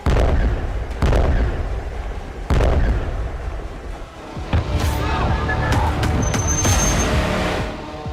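Missile strikes and explosions in the Iran–Israel conflict: a few heavy, booming blasts in quick succession, then sustained rumbling, crackling and a distant whistling tone, loud and dense with no clear talk.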